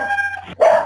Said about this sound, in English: that would be Sadie, the speaker dog